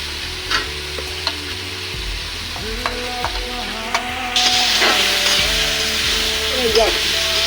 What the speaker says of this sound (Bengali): মশলাটা কষানো হয়ে গেছে এখন আলু দিয়ে আগে দিয়া দিই